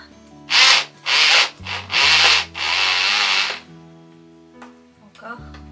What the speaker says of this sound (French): Il faut juste que je dévisse pour pouvoir voir l'intérieur.